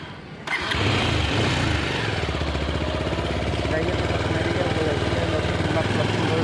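A motorbike engine revs up as the rider sets off near a medical college, then settles into a loud, steady mid-pitched drone that continues close by for several seconds, with a voice talking over it.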